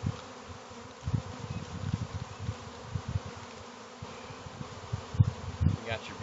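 Honey bees buzz in a dense, agitated swarm during hiving, a continuous close drone with individual bees passing near, and voices occasionally heard nearby.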